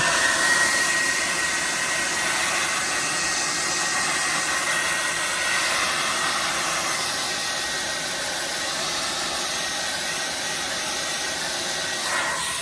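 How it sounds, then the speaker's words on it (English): A hair dryer blows steadily at close range, a constant whooshing whine that holds evenly throughout with no talking. "So I got a hair dryer here that I use."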